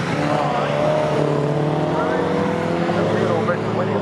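Porsche race cars battle at Snetterton circuit, engines droning loudly and continuously with shifting pitch as they pass, tyres briefly squealing, with commentary talking over the racing noise throughout.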